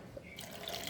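Water splashing and trickling as it is poured into the tank of an Arduino-based robot used for irrigation and pesticide spraying, a short, steady pour close by that grows brighter and fuller partway through.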